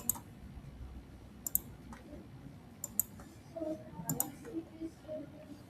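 A computer mouse clicks while a website is built in Elementor, making sparse, faint, sharp clicks at irregular intervals with a little quiet talk in the background.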